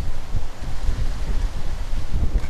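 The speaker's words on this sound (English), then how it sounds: "Super windy out here tonight." Strong wind buffets the microphone in a continuous low roar with gusty fluctuations, no voices present, at night among mangroves.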